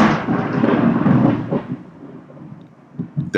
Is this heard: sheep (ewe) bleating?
no